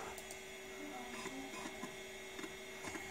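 A MiniScribe hard drive with a repaired stepper motor seeking, giving faint repeated clicks over a steady whining hum, quiet throughout.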